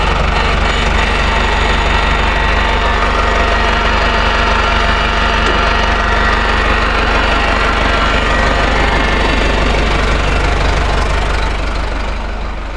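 A John Deere 1640 MFWD tractor engine idles steadily nearby, a loud low chugging rumble with a knocking rhythm that continues unchanged throughout.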